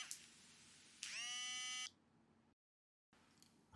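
A mobile phone ringing indoors in a home, a bright electronic tone that swells for about a second, then briefly cuts to silence before sounding again faintly.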